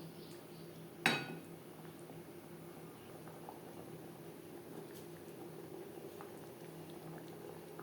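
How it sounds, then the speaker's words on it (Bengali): An egg omelette cooking in curry gravy gives off a quiet, steady bubbling simmer, with one sharp metallic clink near the start and a few faint ticks afterward. "গ্রেভির সাথে অমলেট আরও 2-3 মিনিট রান্না করব"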